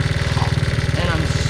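A Honda ATC70 three-wheeler's small engine runs at a steady idle, with a close, even low thrum carrying a fast, regular pulsing beat throughout.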